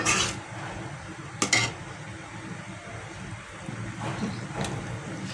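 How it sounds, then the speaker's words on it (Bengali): A spice paste for mutton curry is sautéed in oil in a pot, with a metal spoon clattering against the pan in a couple of sharp knocks, then a soft ongoing sizzle and scraping. "এখন মশলাটাকে ভালো করে কষিয়ে নেব যাতে মশলাতে তেলটা আলাদা হয়ে যায়"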